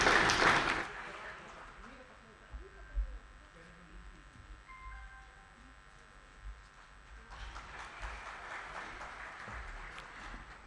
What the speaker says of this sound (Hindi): जोरदार तालियों से कृपया सम्मान दें।